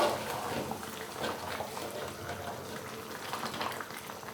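A pot of kadhi for kadhi pakora simmers and bubbles steadily as a tempering is stirred in, a soft, continuous bubbling and sizzling up close.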